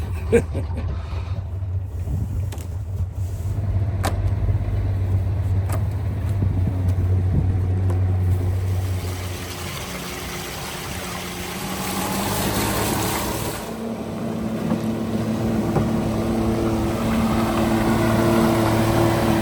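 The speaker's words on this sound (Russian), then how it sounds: "мы мотор прогрели сейчас. Вышли на ходовые испытания." A catamaran's outboard motor drones steadily nearby during a sea trial in Yakutia, its low hum shifting as it runs, with wind and water noise around it.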